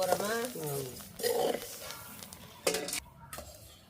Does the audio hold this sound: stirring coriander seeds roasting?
yes